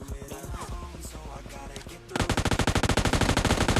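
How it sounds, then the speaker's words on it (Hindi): Rapid automatic gunfire in PUBG Mobile Lite crackles in a fast, evenly spaced burst after scattered earlier shots, loud and close, mixed with faint game sounds. "ये टावर वाला बंदा देखो भाई मेरे पे शॉट्स ले लेता है"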